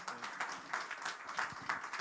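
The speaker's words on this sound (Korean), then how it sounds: "박수로 한번 우리 맞아주십시오." A church congregation claps to welcome a pastor to the lectern at a new-member ministry team training, a fairly quiet, brief round of applause with uneven bursts.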